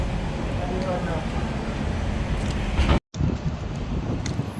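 Steady, broad, cold wind rushing across the microphone at night in Macau, rumbling and continuous, with a brief dropout near the end before the gusting resumes.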